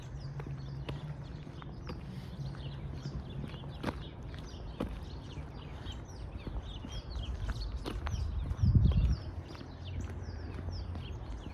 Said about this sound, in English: I'll just walk through the woods right now.